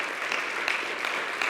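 Congregation applauding in praise to the Lord during a Spanish-language church service, a brief dense burst of clapping filling the room, steady and moderately loud throughout.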